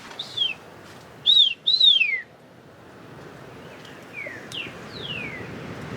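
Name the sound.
children whistling imitating bird calls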